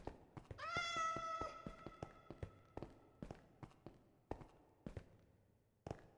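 A cat meows in a rising, drawn-out cry in a video game, surrounded by a steady series of sharp footstep-like taps that continue after the meow fades.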